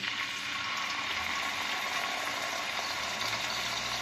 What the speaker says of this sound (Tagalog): Ito naman po kabila, atin po ito ipiprito.